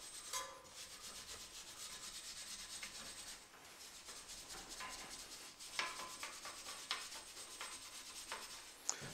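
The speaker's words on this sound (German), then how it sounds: "Aber wir nehmen uns einfach mal eine Drahtbürste und gehen hier einmal kurz drüber." A wire brush scrubs rust off a VW wheel hub during a brake job, a faint, steady scratchy rasping with occasional sharper clicks, close and without talk.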